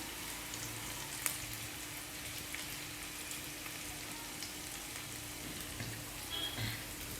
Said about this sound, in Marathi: फास्ट गॅसवरच हे आपण आता परतून घेणार आहोत।